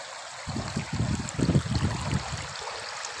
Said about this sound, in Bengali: দেখেন এখানে জোয়ারে পানি আসছে নতুন জোয়ারে এই নদীতে পানির